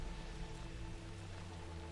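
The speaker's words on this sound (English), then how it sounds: "you hear that pittering pattering of the rain landing on his little wings?" Rain in the video game Horizon Forbidden West, a soft steady patter of drops falling on surfaces, continuous and even, with a low background hum and no talking.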